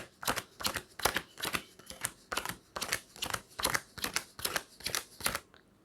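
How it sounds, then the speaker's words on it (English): Playing cards dealt out one by one during a card trick, a steady rhythm of about a dozen crisp, close slapping flicks, each card snapping down onto the pile in quick succession before stopping. "I'm just going to start dealing out these cards over here."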